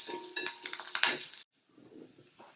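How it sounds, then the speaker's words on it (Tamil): Shallots and curry leaves frying in a pan, a crackling sizzle with spatula scrapes and clinks for over a second, then a brief cut and a quieter frying hiss. "1 நிமிடம் ஃப்ரை ஆகட்டும்."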